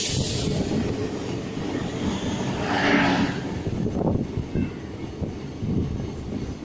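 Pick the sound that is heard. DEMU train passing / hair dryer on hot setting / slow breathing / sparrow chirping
DEMU train passing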